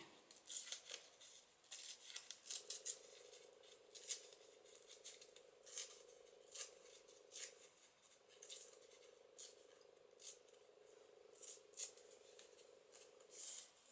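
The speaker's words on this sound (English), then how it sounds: "cut that about the same place and tear down this side" Scissors snip and tear vellum paper in short bursts of sharp cutting and tearing, with a faint steady hum underneath and no talk.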